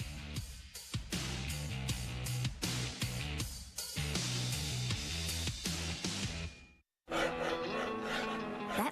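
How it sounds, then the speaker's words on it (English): A cricket bat being shaped by hand, with rhythmic rasping and rubbing strokes that repeat steadily, loud and close, broken by a short pause before the strokes resume. "That's the sound of a cricket bat being shaped."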